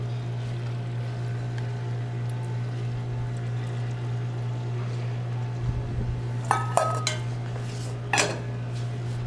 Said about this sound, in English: we're going to add in our carrots, our onions,